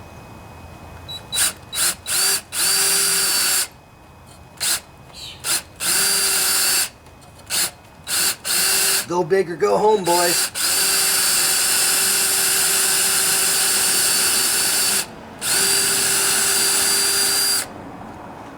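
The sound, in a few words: power drill drilling into engine head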